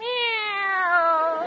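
A kitten gives one long, clear, drawn-out meow that slowly falls in pitch, close and alone with nothing else around it.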